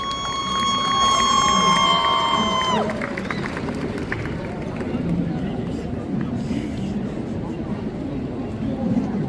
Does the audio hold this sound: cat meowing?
no